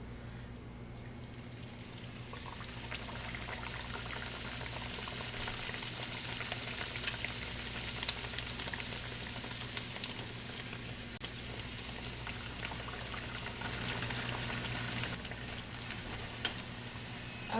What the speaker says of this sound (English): put them in the oil, let them brown on both sides.